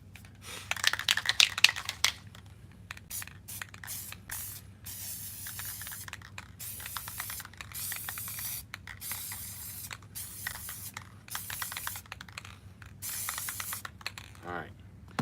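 Aerosol dye hisses onto black stretch suede pillar trim from an Infinity G37 Coupe in many short, close bursts, each spray stopping cleanly with a faint click before the next.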